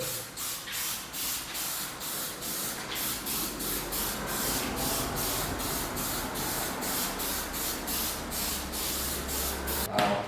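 Spray paint hisses steadily over headlight parts for a VF Commodore custom headlight job, laid on as a light coat in a continuous close spray lasting about ten seconds with faint rhythmic pulsing.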